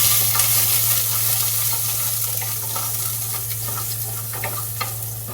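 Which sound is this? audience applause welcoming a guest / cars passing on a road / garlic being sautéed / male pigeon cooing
garlic being sautéed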